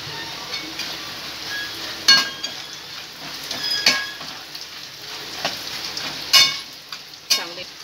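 Raisins, cashews and coconut frying in oil in a pan for thin poha chivda give off a steady, moderate sizzle, broken by several sharp clinks of a spoon against the pan.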